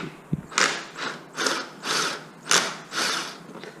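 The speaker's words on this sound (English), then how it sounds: "Time to drill it." A power drill whirs in repeated bursts while drilling a hole in the left intake duct of a Skoda Octavia RS245, about six pulses in a steady rhythm, close and loud, with brief pauses between.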